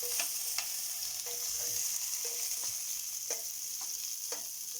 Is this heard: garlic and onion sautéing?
yes